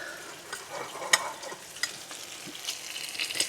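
A tortilla fries in hot oil to soften it for folding into a crispy breakfast taco, giving a quiet, steady sizzle with a few small pops and crackles.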